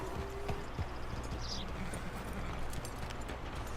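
Horse hooves clip-clop at a steady walking pace in Red Dead Redemption 2, moderately quiet and close under a low ambient background, with no talking.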